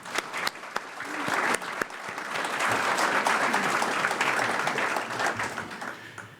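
Sustained applause from an audience at a business forecast breakfast, honoring a project supporter; dense, steady clapping builds quickly and holds for several seconds with a few sharper claps on top.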